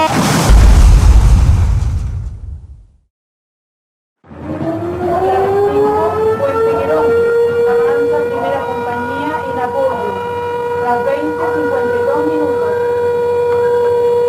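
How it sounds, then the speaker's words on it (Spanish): A loud burst of noise cuts to silence, then a siren starts and sounds steadily with a sustained wavering tone, close and prominent, with other sounds shifting underneath. "La sirena anuncia un hecho trágico, un hecho terrible"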